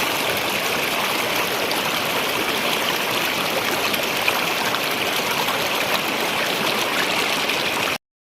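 A river flows steadily nearby in a continuous, even rush of water with a bright hissing texture and no voices, ending abruptly.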